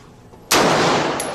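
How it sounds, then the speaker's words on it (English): A single sharp firearm shot cracks out at a shooting range, loud and close, with a long decaying echo tail following the blast; a faint second transient trails near the end. "let me shoot another one"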